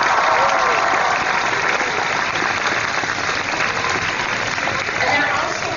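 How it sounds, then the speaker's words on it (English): An audience at the Cal Poly Pomona Class of 2019 graduation ceremony gives sustained applause, a loud dense wash of clapping from a large crowd that holds steady throughout. "Let's offer them a round of applause."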